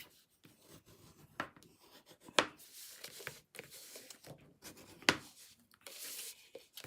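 A bone folder rubs and creases folded cardstock for a stair-step card, making quiet, intermittent scratchy strokes with a few sharper swipes, close up and with no talking.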